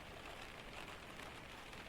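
Rain patters softly and steadily outside a cabin during a Scandinavian storm, a faint, even hiss with no distinct drops or voices.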